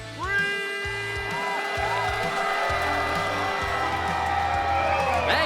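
A crowd applauds and cheers at a live comedy battle show, a dense, steady roar of clapping with whoops and a held vocal tone on top, close and loud throughout.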